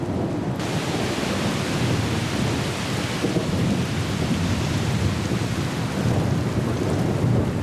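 Heavy rain pours down steadily in an African savanna storm, loud and close throughout, with deep rolling thunder rumbling beneath the constant hiss of the downpour.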